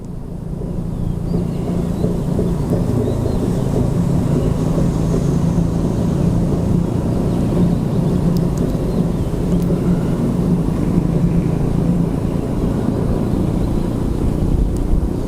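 A heavy diesel locomotive engine revs at Hua Takhe railway station, rumbling low and steady, a constant deep drone with no pauses, fairly loud and close.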